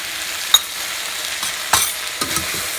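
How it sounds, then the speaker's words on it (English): Spices for brinjal pulav, including chili and coriander powder, fry in a pan with a soft, steady sizzle punctuated by a few scattered clinks and scrapes of a spoon stirring. "Mix everything nicely and let it cook for a while."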